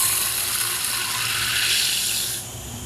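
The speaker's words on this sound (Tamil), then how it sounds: "தண்ணியில் நல்லா ஒரு 3-4 டைம் கழுவிட்டு ஒரு 10 நிமிஷம் ஊற வைக்கணும்" Green gram (mung beans) being washed in water in a home kitchen: a loud, continuous splashing and running-water wash for a few seconds that eases off toward the end.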